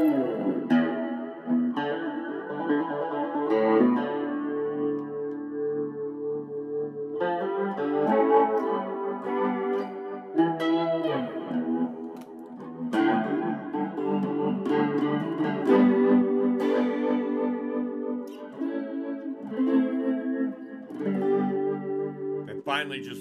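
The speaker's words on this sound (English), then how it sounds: "Then we got the rotary reverb." An electric guitar played through a Vox DA5 modeling amp's rotary reverb effect plays chords and notes with a swirling, warbling reverb that rings continuously throughout.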